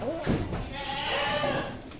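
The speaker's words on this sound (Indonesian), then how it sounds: "Ini kambing Jawa Randu." A Jawa Randu goat bleats a few short wavering calls close by, amid feeding noise and a low murmur of voices.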